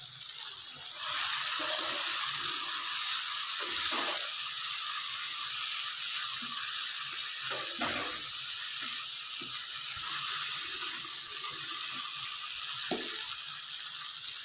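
Spice masala with chopped green chilies and roasted crushed cumin frying in a pan, a constant hissing sizzle with a few scattered utensil knocks, no voices.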